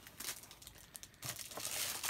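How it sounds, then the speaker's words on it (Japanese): A plastic bag crinkles and rustles close up as a prize from a Love Live grab bag is unboxed. The dense, scratchy crackling is continuous and grows louder near the end. "まだ袋取ってないので、これちょっとガサガサするのはちょっと申し訳ありませんが"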